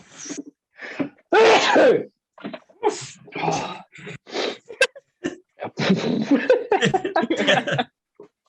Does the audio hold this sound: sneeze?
yes